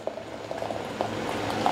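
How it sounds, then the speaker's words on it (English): Hot juice runs from the tube of a steam juicer as the clip is opened, a soft continuous bubbling trickle with small gurgles, close and fairly quiet, no talking. "I'm going to let through some of the juice"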